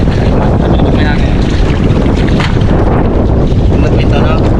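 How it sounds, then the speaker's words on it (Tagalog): Wind blowing across a beach, a loud steady rush with gusty buffeting against the microphone that carries on throughout. "May hangin."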